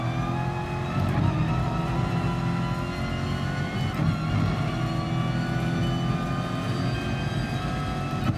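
Race car engine in a racing video game, with the car being driven at Brands Hatch. The engine revs hard and rises in pitch through the gears, shifting around 6,000 revs, a loud, continuous whine that carries on alone throughout.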